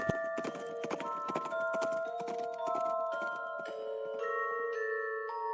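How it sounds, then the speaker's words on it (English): Horse hooves clip-clop rapidly in Quest for Infamy, a quick steady galloping beat over sustained musical tones, fairly loud and close throughout. "You slap the horse and it runs away."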